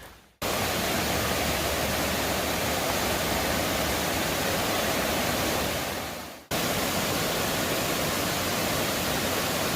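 Cataract Falls on a Gatlinburg trail pours as a steady, dense roar of falling water, close and loud, cutting out briefly near the start and again partway through before resuming, with no voices.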